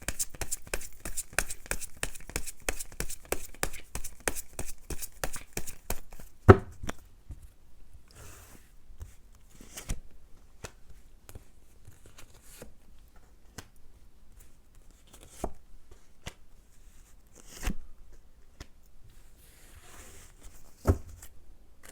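Tarot cards shuffled and drawn: a quick, even run of crisp riffling snaps for about six seconds, then scattered soft taps and flicks as cards are laid out, close and fairly quiet.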